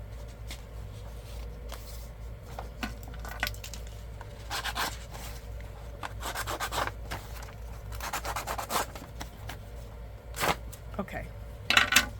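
Cardstock edges being distressed by hand for junk journal faux deeds, a steady close scratchy rubbing and scraping with bursts of harder strokes, continuing throughout with faint background noise.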